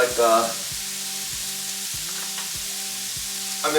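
Onion and garlic sizzle steadily in a pan for a Tibetan pork curry, a constant hiss running throughout under a loud, steady melodic music bed.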